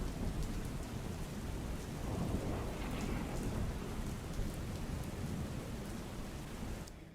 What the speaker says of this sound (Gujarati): જે રીતે વરસાદ અવિરત વરસી રહ્યો છે